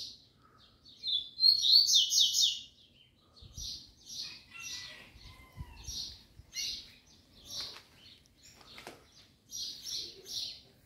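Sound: Papa-capim seed-eater bird singing

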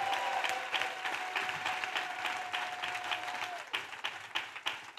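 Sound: congregation clapping as offering to Jesus

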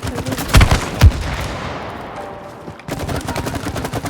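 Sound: shooting in the video game It Takes Two

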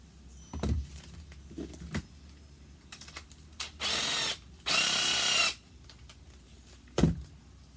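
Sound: unscrewing the nut inside a cordless drill chuck

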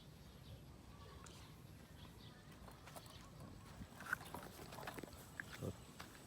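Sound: mother pig and piglets

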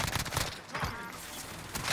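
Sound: shotgun gunfire in video game Call of Duty Warzone

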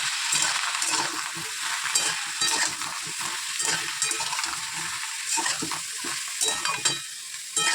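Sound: stirring vegetables frying in pan for chorchori

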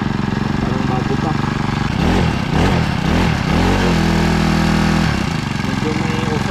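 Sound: Honda GX35 grass cutter engine running after carburetor replacement

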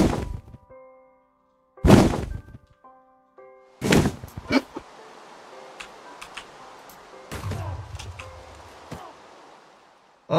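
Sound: fireball blast hitting witch in Minecraft video game

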